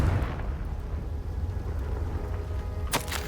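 A Confringo blasting spell goes off in Hogwarts Legacy on PS5: a steady low rumble holds, then one sharp, bright burst cracks out near the end.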